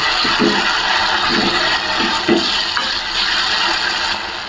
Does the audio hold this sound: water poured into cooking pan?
yes